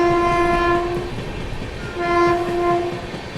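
Goa Rajdhani Express train running at moderate speed through Godhra Junction, its horn sounding in two loud sustained blasts over the steady rumble and clatter of the moving train.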